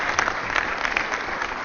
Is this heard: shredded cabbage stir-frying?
no